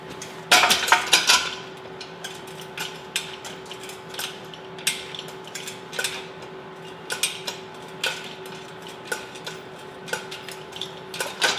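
A hand-pumped sheet metal shrinker tool crimps a bent metal piece in a workshop, giving a steady series of sharp metallic clacks and clanks at close range, with a faint steady hum in the background.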